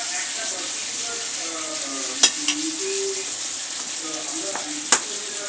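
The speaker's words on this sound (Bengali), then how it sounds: "এখন আমি 1 টেবিল চামচ সয়া সস দিব।" Soy sauce sizzling in a hot frying pan for a pasta dish, a steady bright hiss broken by a few sharp clicks of a utensil against the pan.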